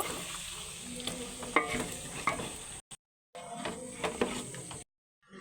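Chana and masoor dal being sautéed in a pot, a soft sizzle with scraping stirs and a few sharp clinks of a spoon against metal, faint and close, cut by two brief silent gaps.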